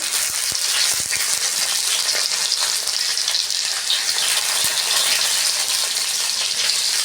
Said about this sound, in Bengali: ভেজে নেব রসুন আর পেঁয়াজ